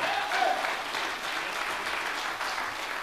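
An audience claps steadily throughout, a dense wash of applause with no voices standing out.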